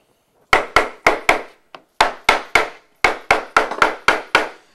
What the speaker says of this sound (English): Take out our mallet.